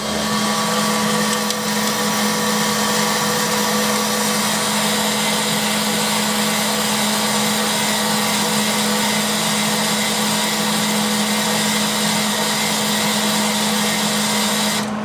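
MIG welding with Yes brand welding wire on a 1957 Chevy: a loud, steady electric buzz and crackle runs unbroken for about fifteen seconds, close up, with no talking.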